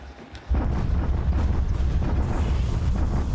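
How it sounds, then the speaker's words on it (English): Naval bombardment of Vigan in a wartime strategy game, a sudden heavy rumbling roar that starts after a brief lull and holds as a dense, continuous, loud barrage of blasts. "There's our bombardment at Vigan."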